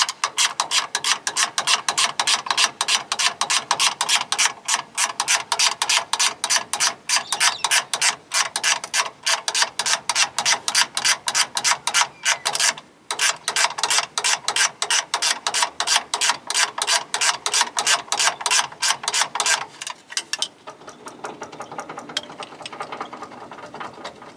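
A hand ratchet works long bolts loose from a Thermodyne water manifold on a Ford F600 truck, making a fast, steady train of sharp metallic clicks close up for about twenty seconds before it slows and stops.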